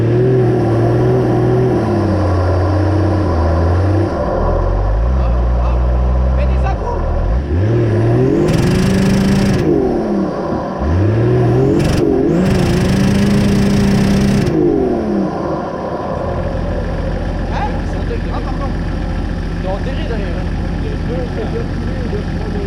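A stuck Peugeot Patrol-type off-roader's engine revs repeatedly, rising and falling in long whining pulls as the tyres spin, loud and close with a steady rumble between bursts.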